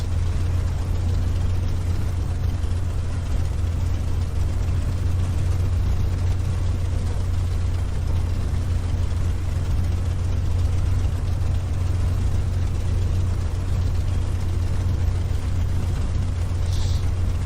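Cold P-51D Mustang engine idling at about 1000 RPM in the A2A flight simulator, a steady low droning rumble that holds constant throughout with no talk over it.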